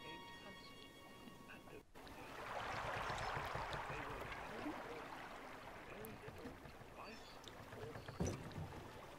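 A swan boat ride in The Park video game brings a steady wash of water and wind that swells after a soft start, fairly faint and continuous, with a brief knock near the end.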